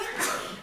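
A single short, sharp sneeze bursts out close by in a quiet room, over in well under a second.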